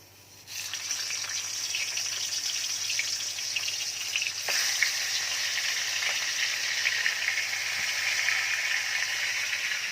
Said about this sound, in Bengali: নুন হলুদ দিয়ে ইলিশ মাছ ভাজা চলছে।